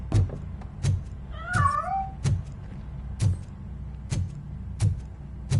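A single short cat meow rises in the middle of the clip, heard over a steady rhythm of sharp repeated ticking clicks and a low hum.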